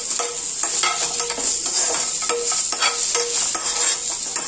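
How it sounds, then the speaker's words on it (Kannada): Chillies and almonds fry in oil in a pan, a loud continuous hiss close up with regular scraping and stirring strokes running through it. "ಎಲ್ಲ ಸ್ವಲ್ಪ ಫ್ರೈ ಆಗ್ಲಿ"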